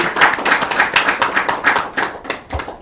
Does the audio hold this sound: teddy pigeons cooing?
no